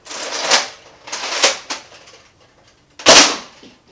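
A Nerf Mega Twinshock toy blaster being primed: three sharp mechanical clacks, two close together and a louder one after a pause, with no voices.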